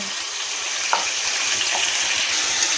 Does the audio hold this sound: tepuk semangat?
no